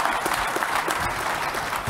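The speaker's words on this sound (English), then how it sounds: "Let's give him a round of applause," Conference audience at a food systems leadership event clapping together, a dense, steady burst of applause heard up close for a couple of seconds without talk.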